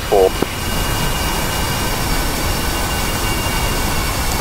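A jet aircraft takes off from a runway in the video game DCS World, giving a steady, loud engine roar and whine throughout, with a brief voice-like blip at the start.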